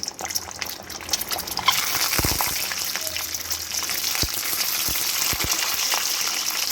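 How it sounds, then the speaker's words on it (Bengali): Eggs drop one after another into hot oil in a wok, setting off a loud, continuous crackling sizzle with a few sharp pops and spatters scattered through it. "তেল গরম হওয়ার পরেই ডিমগুলোকে একে একে এই তেলের মধ্যেই ছেড়ে দিচ্ছি"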